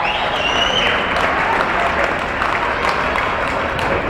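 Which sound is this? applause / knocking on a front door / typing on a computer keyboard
applause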